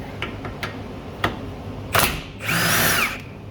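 An impact gun rattles off the 15mm and 18mm shock absorber bolts on a 2013–2020 Ford Fusion rear suspension, with a few short taps followed by two loud, close bursts, the last lasting nearly a second.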